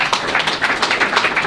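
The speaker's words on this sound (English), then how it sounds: "Big round of applause for Carl." Steady, close applause from the crowd at Gillingham Football Club's 2020/21 Player of the Year awards, welcoming club captain Carl Dempsey, a continuous wash of many hands clapping.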